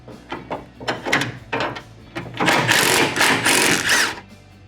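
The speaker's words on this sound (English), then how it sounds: "We're gonna use an impact here because it's a little bit quicker for the install." An impact wrench runs in several short bursts while removing 10mm bolts from a 1992-96 Ford Bronco or F-series truck, with choppy rattling pulses followed by a longer, louder sustained whirr.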